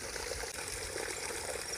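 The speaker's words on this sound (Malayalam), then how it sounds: "അവിടെ വെള്ളം വീഴുന്ന സൗണ്ട് കേൾക്കുന്നുണ്ട്." A small stream of water falls and splashes at Bhagavathipuram in Tenkasi, a faint, steady hiss of flowing water that runs unbroken throughout.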